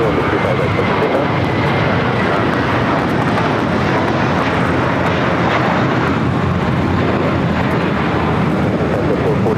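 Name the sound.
airplanes taking off at LAX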